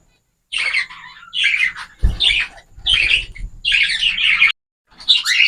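Heavy pied breeder birds in a double cage chirp and squawk close by in repeated lively bursts separated by short pauses, with no voices.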